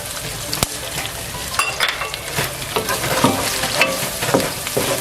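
Onions with turmeric and salt are stirred in a sizzling pan, a steady frying hiss broken by scraping strokes of the spoon against the pan, close and fairly loud with no talking.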